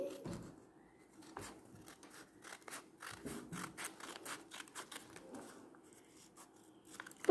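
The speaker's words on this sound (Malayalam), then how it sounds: "ഈ വശവും കട്ട് ചെയ്തെടുക്കാം." Scissors snipping paper to cut out a paper star, a steady run of close, crisp cuts in quick succession, quiet and with no talking.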